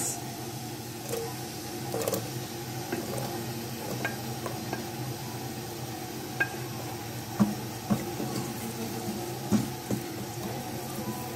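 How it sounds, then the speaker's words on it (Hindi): Onions frying in about a quarter cup of oil, a steady close sizzle with scattered spoon clinks and stirring knocks. "प्याज को फ्राई करूंगी पहले।"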